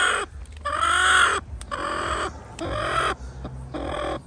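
A chicken clucks and squawks close by in loud, repeated bursts separated by short pauses, with no talk over it.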